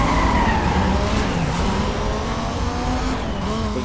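A Dodge Viper sports car in Need for Speed: Most Wanted, fully upgraded, roars with a steady, loud engine drone while its tires skid and squeal continuously throughout.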